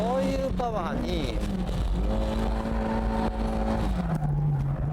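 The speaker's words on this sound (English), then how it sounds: "Shift down and put the pedal to the metal." A car engine pulls hard after a downshift during a drift run on M7 tires, its steady loud drone rising and holding pitch over several seconds while someone talks over it.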